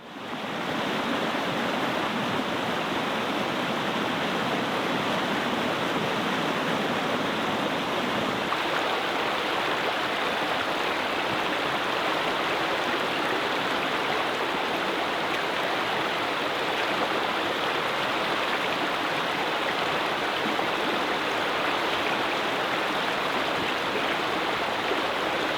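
A cascading creek waterfall in winter roars steadily and loudly, a dense unbroken rush of white water close by with no voices.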